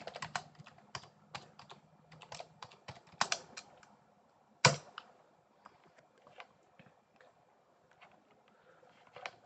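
Rapid clicking keystrokes on a computer keyboard as router commands are entered for a Cisco network lab, in quick bursts with brief pauses and one louder key slam midway.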